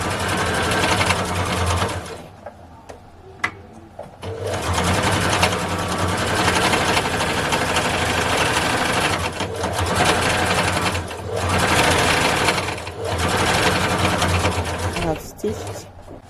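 A sewing machine runs in long continuous bursts, stitching around a homemade fabric face mask, close and loud with short pauses between runs and someone talking over it.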